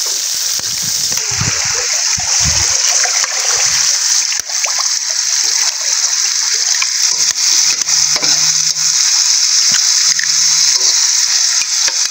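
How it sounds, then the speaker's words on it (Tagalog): Water poured into a hot cooking pan at an outdoor catch-and-cook meal, giving a loud, continuous sizzle and splatter with stirring clatter and a few brief clunks. "Lagyan na po natin ng tubig."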